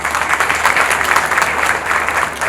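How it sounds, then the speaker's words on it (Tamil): An audience at a Lions Club International district event in Chennai applauds, a dense, even wash of many hands clapping throughout, loud and close, with no one speaking over it. "நல்லா கைத்தட்டு"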